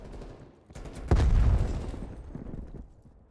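An incoming artillery airstrike lands in a video game: a sudden heavy explosive boom that rolls on for about a second, then decays into a lingering rumble over quieter background noise.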